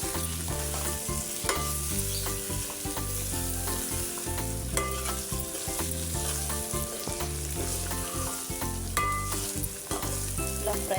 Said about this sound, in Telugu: ముక్కల్ని వేసేసుకొని మంచిగా ఆయిల్లో ఫ్రై చేసుకోవాలి.